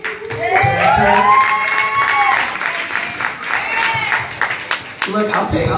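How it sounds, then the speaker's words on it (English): Audience at a press conference and campaign launch clapping steadily, a fairly loud wash of applause with a voice speaking over it most of the time. "I'll take the round of applause."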